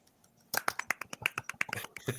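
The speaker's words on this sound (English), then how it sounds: "Golf clap." A light golf clap of about a dozen crisp, quick hand claps follows a short quiet pause, close and fairly soft, with an uneven rhythm.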